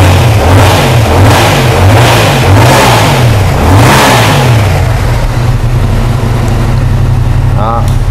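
Yamaha R7 sport motorcycle engine, a 2023 model, revving hard in repeated throttle blips, then settling into a loud steady idle, close up, with someone talking over it.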